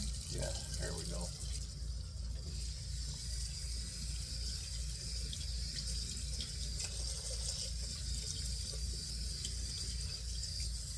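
Running tap water rinsing a shaving brush, a steady close splash and flow filling the whole stretch.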